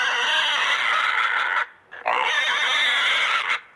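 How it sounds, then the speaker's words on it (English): A pig gives two long, loud, close grunting squeals, each about a second and a half, separated by a brief pause. "That's a pig"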